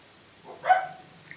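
A single short dog bark sounds in a fairly quiet space, brief and moderately loud, with nothing else around it.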